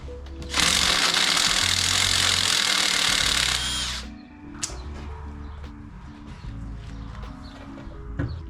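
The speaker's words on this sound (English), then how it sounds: "Gonna start by removing all the bolts basically so I can get this one off." A power tool spins loudly for about three seconds removing bolts from a motorcycle, then winds down, followed by quieter clicks, clinks and short mechanical whirs.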